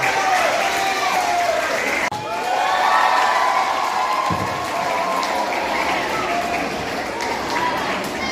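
Sustained applause and cheering from a crowd of students at a school scripture quiz competition, loud and continuous with children's voices and shouts mixed throughout and a brief dip partway.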